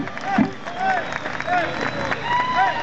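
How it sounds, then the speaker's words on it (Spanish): A concert crowd at a live cumbia show applauds and cheers, dense clapping rising and falling over a couple of seconds, with voices over a PA and a band sound in the mix. "¿Dónde están los aplausos?"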